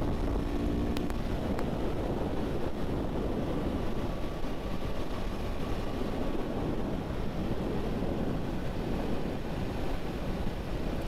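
Husqvarna Svartpilen 401 motorcycle riding down a dirt road, heard as a steady, rushing engine drone heavily mixed with wind buffeting the microphone throughout, with no breaks.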